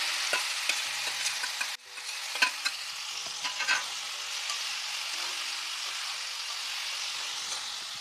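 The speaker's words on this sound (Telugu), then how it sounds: "ఉల్లిపాయ పచ్చిమిరపకాయ పేస్ట్ దోసకాయ ముక్కలు వేసేస్తున్నాం" Onion and green chili paste go into a frying pan with cucumber pieces for a cucumber mutton curry, bringing a soft steady sizzle broken by a splat and light scraping stirs, no talking.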